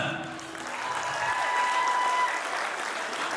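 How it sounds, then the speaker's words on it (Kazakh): Guests at a sundet toy circumcision celebration clap together in a sustained round of applause, with a faint voice or tone beneath it. "Данияр көкемді құрметтеп, сыйлап келген қонақтар шапалақ соқсыншы."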